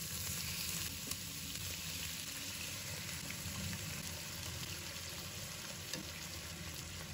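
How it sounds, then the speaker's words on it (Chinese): Chicken leg pieces fry gently over low heat in a pot with oil flavored by scallion and ginger, giving a steady, quiet, even sizzle with a few faint pops and no talking. "火的话就不要开得特别大，就小火慢慢的给它煎一会"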